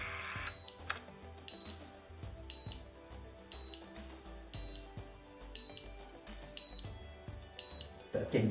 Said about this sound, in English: It's gonna beep the entire time?